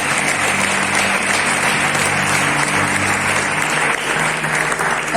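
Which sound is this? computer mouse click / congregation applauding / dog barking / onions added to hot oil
congregation applauding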